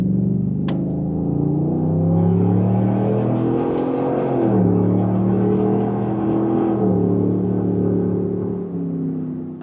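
A 2021 Cadillac Escalade with a 6.2L V8 and a 3-inch MBRP cat-back exhaust with dual split rear exits accelerates on the road, its deep engine rumble climbing in pitch, easing, then rising again, loud and steady throughout.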